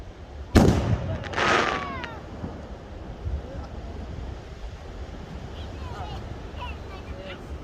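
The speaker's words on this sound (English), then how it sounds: "I'll put a little shot of one of the fireworks going off" A couple of firework bursts go off: a sharp crack followed by a crackling burst, then a fainter rumble trailing away, with outdoor background noise after.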